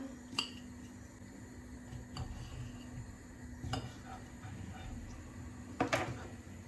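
A knife cuts through pickled cucumbers a few times, sharp crisp strokes spaced out against a low background hum.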